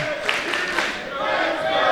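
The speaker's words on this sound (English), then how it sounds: "Listen to this crowd right now. How much they believe in Lady Glory." Wrestling crowd cheering for Lady Glory, a dense roar of voices and shouts from a large arena audience sustained throughout the short moment.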